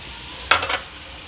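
A short, sharp sizzle and scrape as vegetable filling with black pepper, salt, chicken powder, chili sauce, vinegar and soy sauce is stirred and fried in a pan, a quick burst of a few strokes over quiet background.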